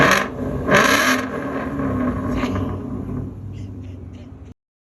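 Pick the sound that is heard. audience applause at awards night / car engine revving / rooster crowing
car engine revving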